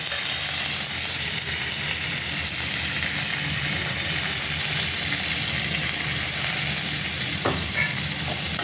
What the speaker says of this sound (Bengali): কড়াইতে তেল দিয়ে কালো জিরা দিয়েছে আর নতুন করতে দিতে পটল দিয়ে